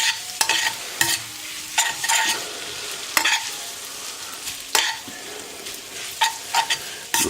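Bacon and pasta sizzle in a frying pan during carbonara cooking, a steady fry hiss broken by repeated scraping stirs of a utensil against the pan.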